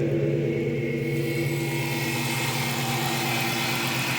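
Supercharged V8 of a 2003 Infiniti Q45 Premium running steadily at idle, a close, continuous low hum with a faint whine above and no talking.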